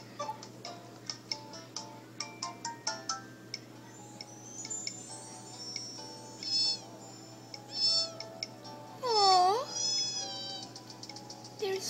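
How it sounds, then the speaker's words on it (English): Cats meowing in the Nintendogs + Cats video game: a run of short ticking clicks, then several clear, separate meows, the last one longer and louder, all over a steady low hum. "Then we have the cats."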